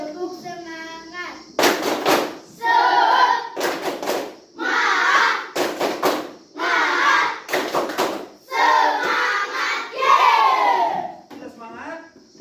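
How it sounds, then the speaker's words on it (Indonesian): A class of children doing a rhythmic clapping chant, bursts of loud, sharp group claps in quick patterned sets alternating with the children's voices chanting together, close and energetic, in a classroom. "Kita tepuk semangat dulu."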